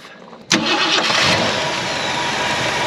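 A Ford Galaxie XL V8 that sat parked for decades cranks and fires abruptly, then settles into a loud, steady, rough running roar close by.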